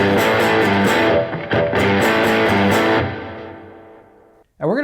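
An electric guitar with distortion plays the intro riff, rhythmic chord stabs loud and close, ending in a brief pause and a final strum.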